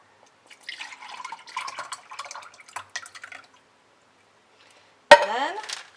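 Soup from a freshly opened can is poured into a bowl over two slices of bread, giving a soft wet glugging and splashing for a couple of seconds. A sharp metallic clink rings out afterward.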